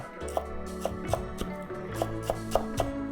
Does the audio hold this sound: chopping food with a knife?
yes